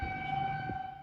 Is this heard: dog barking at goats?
no